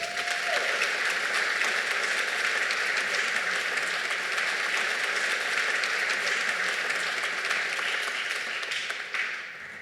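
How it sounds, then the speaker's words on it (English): A banquet audience at the 2025 Georgia Racing Hall of Fame induction gives Scott and Glenn Morris sustained applause, a dense, loud roar of clapping holding steady for several seconds before easing off at the end. "How about one more round of applause"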